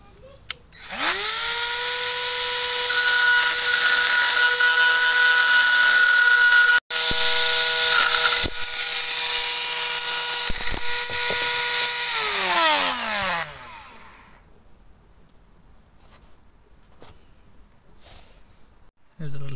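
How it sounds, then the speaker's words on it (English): A high-pitched power tool whines steadily for about eleven seconds as it cuts a slice into a Peugeot locking wheel nut, briefly dipping once, then winding down with a falling pitch into quiet. "I'm just going to cut a little slice in it here with this."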